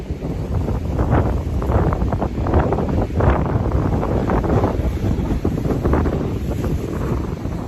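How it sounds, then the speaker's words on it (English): Strong wind, about 30 miles an hour, roars steadily across the microphone, a constant heavy rumble with gusty surges throughout. "The wind's blowing about 30 miles an hour."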